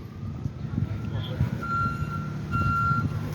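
A bus maneuvers through a tight spot near a three-car crash scene on a street, its reversing alarm sounding two clear spaced beeps over engine rumble, with someone talking nearby.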